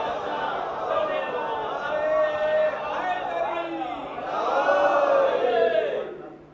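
A congregation recites salawat together in a dense, chanting crowd of many voices that swells and falls, growing louder toward the end before fading.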